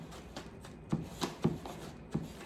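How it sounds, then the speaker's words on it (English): Knife mincing green onions on a board for crab cakes: a few separate, soft chopping knocks spaced irregularly, close by, alone with no talk. "So I'm just mincing the green onions"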